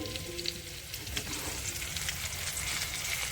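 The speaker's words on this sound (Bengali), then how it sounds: "টমেটো কুচিটা একটু নাড়াচাড়া দিয়ে নেব দিয়ে একসঙ্গে ওটা নাড়া দিয়ে নেব" Chopped tomato and potato fry in a pan with spices and ground cumin, a steady close sizzle under scraping stirs, alone and moderately loud.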